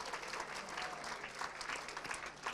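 An awards-ceremony audience at the Spirit of Manchester 2024 event claps for the nominees in sustained, dense applause that fills the hall evenly and keeps going without a pause.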